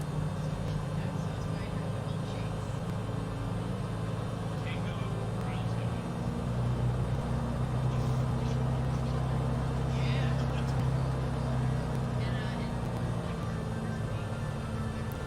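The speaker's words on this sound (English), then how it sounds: "Just checking to make sure all flight controls are working while we taxi to the runway." A steady engine drone from an aircraft taxiing to the runway in Microsoft Flight Simulator 2020 on a Sedona to Vegas flight, a constant loud hum throughout with a voice speaking over it.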